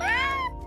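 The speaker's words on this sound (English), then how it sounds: "You're just a happy kitty cat." A cat meows in the video game My Time at Sandrock, a single clear rising then falling meow lasting under a second, close and fairly loud over a soft background hum.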